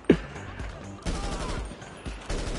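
Bursts of rapid gunfire in the video game GTA, a sharp opening shot followed by repeated volleys in separate clusters, loud and close, with a voice briefly heard among the shots.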